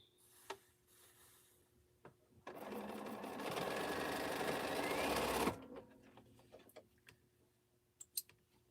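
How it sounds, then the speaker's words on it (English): A home sewing machine runs a single steady burst of stitching through quilt fabric for about three seconds, framed by quiet handling clicks and a few sharp taps before and after. "So I need to sew something else to get that off."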